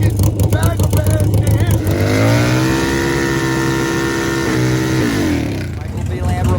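A Harley-Davidson bagger drag bike roars down the drag strip with a loud sustained engine note that rises in pitch and then fades, under excited announcer commentary.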